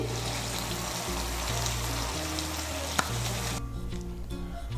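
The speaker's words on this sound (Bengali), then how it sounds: "কসুরি মেথিটাকে ভালো করে মিশিয়ে নেব।" Masala bhindi (okra) with crushed kasuri methi sizzling loudly in a pan while being mixed, a dense continuous hiss with a low steady hum beneath and one sharp clink partway through, no voices.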